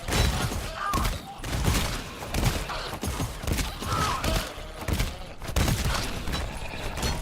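A companion character named Hatchet fires a gun in a video game, producing rapid bursts of gunshots in dense, repeated volleys with short gaps between them.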